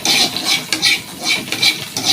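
Garlic and green chillies frying in a pan are stirred briskly, with rhythmic scraping strokes repeating roughly every quarter second, loud and close, over a light sizzle.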